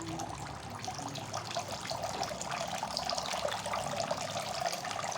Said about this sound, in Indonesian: cukup media tanamnya saja yang kita basahin. Nah, sampai dia ngocor.